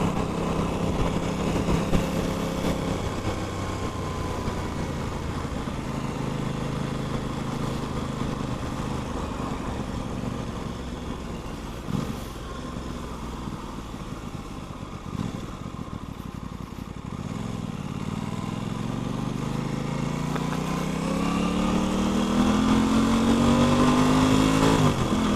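An Aprilia RS660 sport bike is ridden, its engine droning steadily, then dipping near mid-run before climbing through a long rising rev toward the end, sustained and fairly close.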